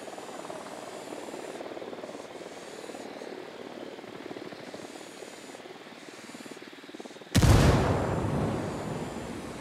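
A military video game battle has a steady, droning helicopter rotor running throughout, then a sudden loud blast near the end that decays into a roaring rumble.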